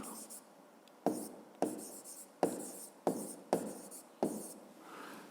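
Pen strokes on notebook paper during a fifth-grade math lesson, six distinct scratchy bursts at a steady pace, close and fairly quiet.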